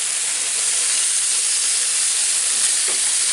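Chicken mince pizza frying in a covered pan, giving off a steady, close hiss and sizzle that holds evenly throughout with no talking.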